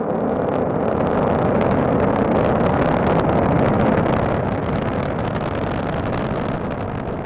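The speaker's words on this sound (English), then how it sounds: "launch of the SpaceX Falcon 9 rocket" A SpaceX Falcon 9 rocket lifts off on a space station resupply launch, giving a steady, broad, rumbling roar that holds for several seconds, alone and without pauses.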